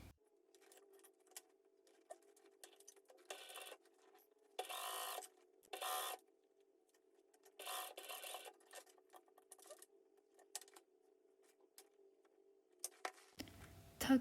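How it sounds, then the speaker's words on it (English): A sewing machine stitches a tote bag lining pocket shut, quiet and intermittent, with several short bursts of whirring separated by pauses and light mechanical clicks. "The last step is to sew your lining pocket shut."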